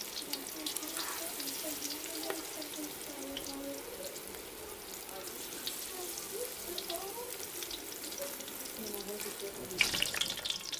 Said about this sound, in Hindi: ये देख सकते हैं ऑयल अच्छी तरह गर्म हो चुका है और इसमें बेसन लगा के ऐसे डालते जाएंगे।